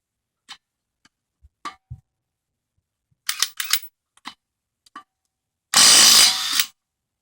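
A Ryobi P260 cordless impact wrench fitted with a 13/16 socket, preceded by scattered handling clicks and short whirs, then one loud, close burst of about a second; no talking.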